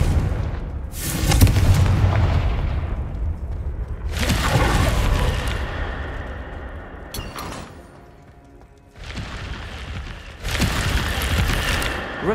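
Fire-blast spell detonations in a wizarding action game, several booming bursts at roughly four-second intervals, loud and close with rumbling low end and fading tails between.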